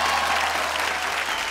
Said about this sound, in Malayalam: നിങ്ങൾക്കൊരു വലിയ കൈയടി.